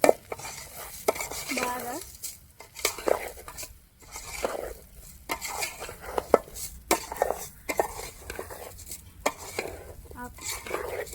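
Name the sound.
stirring rice in a pot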